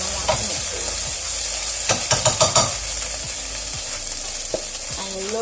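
Vegetables and rice cooking in a pan give a steady close sizzle and hiss, broken by a few brief stirring clatters, with quiet talk in the background.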